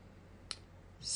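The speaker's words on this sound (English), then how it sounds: "hit T on the keyboard" A single key press on a computer keyboard gives one sharp, close click, followed a moment later by a rising hiss of noise.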